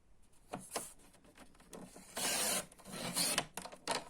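Paper being cut for a junk journal, a few short close rasping strokes followed by longer swishy cuts, irregular and fairly quiet, with no talking.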